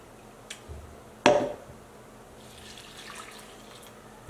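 Water is poured into a meal prep container with half a cup of oats, a short splashing pour in a quiet room following a faint knock.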